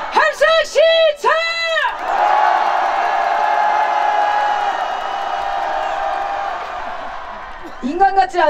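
Crowd at a candlelight protest rally in Seoul's Songhyeon Green Plaza erupts in a long, loud roar of shouting and cheering for several seconds, bracketed by a shouting lead voice before and after.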